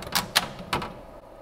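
On a slim Webasto camper-van fridge, a small ventilation drawer slides open with three quick plastic clacks and scrapes close to the listener, followed by a short quiet stretch.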